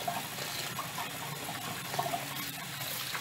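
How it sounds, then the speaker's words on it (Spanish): Black rice being rinsed in a kitchen, with water running and splashing continuously over the grains, a steady close hiss and gurgle without pauses or speech. "Vamos a lavar el arroz primero antes"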